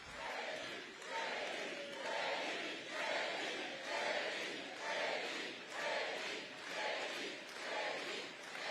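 A large rally crowd of supporters in New Hampshire roars and chants in rhythmic swelling waves, loud and continuous, with no clear single voice on top.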